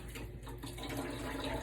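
Water running from a tap to wet a hand before handling pizza dough in a kitchen, a continuous splashing flow that grows slightly fuller toward the end, with no talk.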